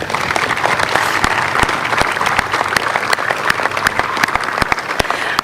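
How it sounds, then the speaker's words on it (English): A crowd gives a round of applause for volunteers and organisers at an international tennis event, dense clapping with sharp individual claps standing out close by, loud and continuous throughout. "Let's give them a round of applause"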